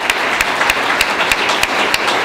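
A town hall crowd in Thunder Bay, Ontario claps for its speakers: sustained, even applause from many people, with loud individual claps popping out at a fairly regular pace.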